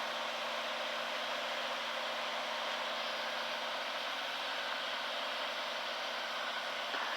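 Cabin sound inside a Cirrus SR22 in the traffic pattern at a busy airport, a steady loud drone of engine and airflow rising slightly as power is added, continuous and unbroken with no voices.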